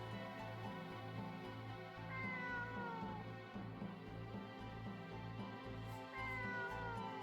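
A cat meows in the Star Ocean video game, several drawn-out mewing calls spaced across a steady low musical hum, moderately quiet and with no talking.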